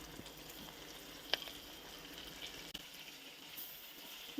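Brinjals hit a hot pan with oil and turmeric while gutti vankaya curry is being cooked, giving a faint, steady sizzling hiss with a small pop partway through and no talking.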